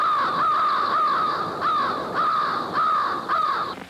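Crows cawing in Essex, Ontario, a repeated series of harsh, loud caws in quick succession from several birds nearby, with no talk.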